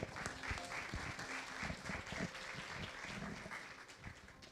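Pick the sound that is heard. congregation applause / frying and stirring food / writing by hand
congregation applause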